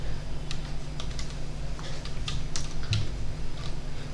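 Typing a PAN number on a computer keyboard, a steady run of quick, light key clicks close up with no talking.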